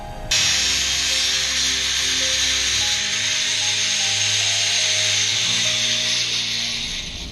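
A stainless steel fuel line is being cut, making a loud, continuous rasping, grinding sound up close for around seven seconds with a low mechanical drone underneath.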